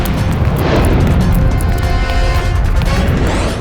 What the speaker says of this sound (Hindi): अंदर से गोली चलने की आवाज आएगी